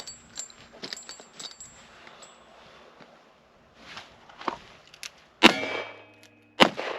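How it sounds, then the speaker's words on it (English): Revolver shots are fired in an Old West cross draw, with sharp cracks that grow loud near the end. Smaller clicks and handling noises are scattered between them, and no voices are heard. "So there's my 5 shots."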